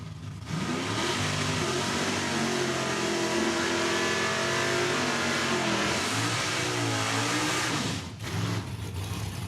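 1973 Split Bumper Camaro drag car at Saskatchewan International Raceway, its engine revving hard and loud in a sustained roar with rising and falling pitch, cutting off briefly near the end.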